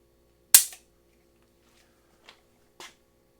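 Dry-fire trigger pull on a factory Browning Hi-Power Mark III pistol: one sharp metallic snap of the hammer falling, followed by two faint small clicks, close and isolated in a quiet room.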